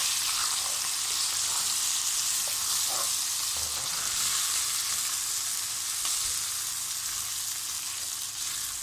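Vermicelli roasts in a pan with a loud, constant sizzling hiss, broken by faint clinks and scrapes of stirring throughout.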